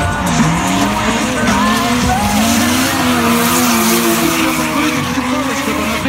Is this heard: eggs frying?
no